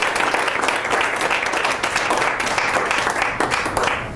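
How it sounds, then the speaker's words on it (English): Audience applause for Rob Goodwin at a keynote speech in a club, steady dense clapping filling the whole stretch at a close, loud level with no talk over it. "Let's give him a round of applause"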